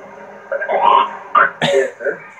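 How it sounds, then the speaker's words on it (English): Someone coughs and clears their throat close into a microphone during a voice chat while playing Grand Theft Auto V, several short raspy bursts. "You got a cough or something?"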